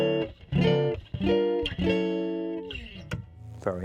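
Gypsy jazz manouche guitar played through a Blunt Instrument VS-20C amp, heard close and clean: a few strummed chords with sharp attacks ringing out and decaying, then a quick pluck at the end.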